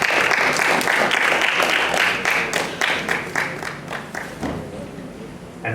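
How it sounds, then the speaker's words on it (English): Sustained audience applause at a schools drama festival opening, dense clapping from a full hall that holds steady and then slowly thins toward the end, with no talking. "Please give them a round of applause."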